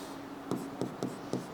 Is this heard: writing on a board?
yes